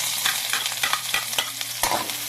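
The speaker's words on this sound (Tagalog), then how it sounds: "mag-gisa na tayo" Garlic and onion sauté in a pan with reused frying oil, sizzling steadily while a utensil scrapes and stirs in irregular strokes, close and clear with no talking.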